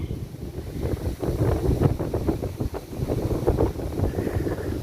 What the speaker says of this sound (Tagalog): Wow, kusog sa hangin no eh.